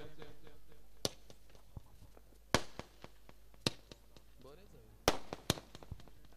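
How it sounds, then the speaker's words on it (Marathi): Firecrackers go off at a local cricket tournament, sharp separate bangs spaced unevenly, some in quick pairs, over a quiet background with low voices. "फटाक्याची आतषबाजी थांबली की त्वरितच मॅचला सुरुवात करायची"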